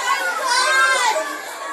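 A crowd of children at a school canteen shouts and chatters together in a loud, continuous, echoing din of overlapping young voices.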